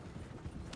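A horse's hooves clip-clop faintly during a brief moment in Red Dead Redemption 2, a few soft, muffled steps in quick succession.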